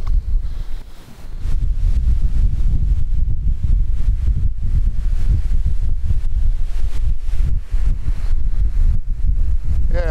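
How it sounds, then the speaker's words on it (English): Strong wind buffets and roars continuously, rumbling low and loud with gusts rising and falling, no voices. "it's a little bit windy"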